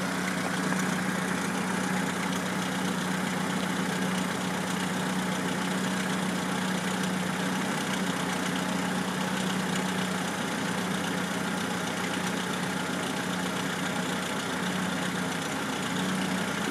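A car engine idles steadily under an exhaust gas analyzer test, a constant mid-low hum with a faint tonal drone, alone and unchanging throughout.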